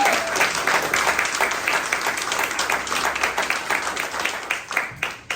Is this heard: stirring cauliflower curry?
no